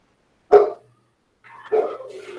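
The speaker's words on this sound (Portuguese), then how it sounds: "Se ele começar a latir demais, eu fecho a janela aqui para não atrapalhar a nossa aula." A dog barks twice through an open window during an online class, one sharp bark followed after a pause by a longer, rougher bark trailing into a whine, both fairly close and loud.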